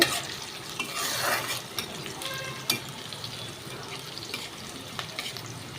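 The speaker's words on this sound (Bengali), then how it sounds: "পেঁয়াজটা অনেকটা ভাজা হয়ে গেছে।" Onion frying in a pan for a soybean curry, a continuous close sizzle with stirring scrapes and one sharp knock, no voices.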